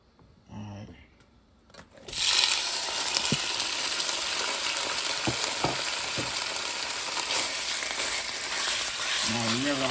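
Chicken and shrimp hit hot oil in a pan with a sudden loud sizzle that settles into a steady, dense frying hiss, heard close with a few clinks and no talking.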